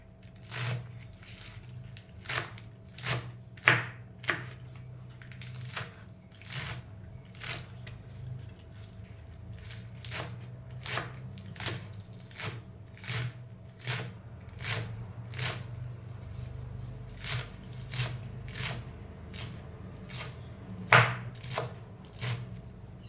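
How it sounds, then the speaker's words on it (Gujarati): A knife finely chops green onion in quick, evenly spaced strikes, each crisp chop close and distinct, continuing at a steady rhythm without pause. "ડુંગળી પણ ઝીણી ઝીણી કટ કરી લેવાની."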